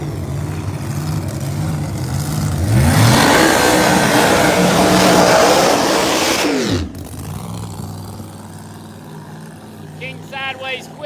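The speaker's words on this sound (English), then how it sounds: "Here comes a couple high horsepower machines coming at you right here." Pro Mod drag racing cars accelerating down the strip, a loud, rising engine roar that swells, peaks and cuts off abruptly, with someone talking over it.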